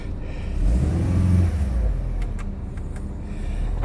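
An Audi car engine, just refitted with new spark plugs, runs steadily at a low idle with a smooth, continuous rumble, holding at a moderate level from start to finish with no talking.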